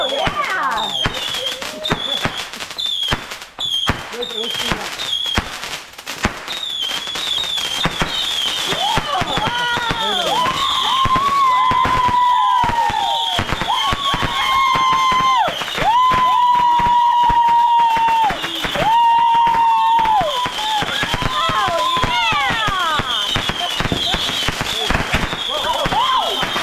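Fourth of July fireworks burst and crackle continuously, with sharp bangs, rapid firecracker pops and whistling rising shells, while people cheer and talk over the show.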